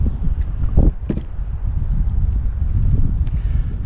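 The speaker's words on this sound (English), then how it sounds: "Here in the wind" Wind blowing steadily across open water while fishing for bass from a small boat, a constant low rumbling gust noise on the microphone with a few brief splashy knocks near the start.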